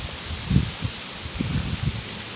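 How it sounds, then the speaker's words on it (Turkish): Leaves rustle softly in a breeze in a backyard garden, in a few brief, faint swells up close, with no talking. "bahçede çok güzel rüzgar da esiyor şu anda"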